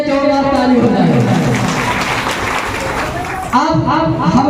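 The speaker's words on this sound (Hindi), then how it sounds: "इसके लिए जोरदार ताली हो जाए।" A workshop audience in Deoghar bursts into a couple of seconds of loud, dense clapping, then a speaker's voice takes over again.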